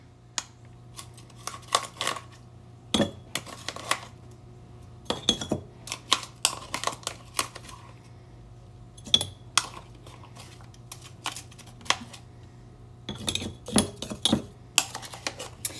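Ice cubes clinking against a coffee cup in a kitchen, with many sharp, irregular clinks and rattles spread throughout over a steady low hum.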